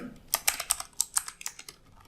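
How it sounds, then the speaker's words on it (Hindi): Typing on a computer keyboard while working in AutoCAD, about ten crisp, close key clicks at a brisk, fairly even pace, alone without talking. "फिर हमने कीबोर्ड से टैब की को प्रेस करना है।"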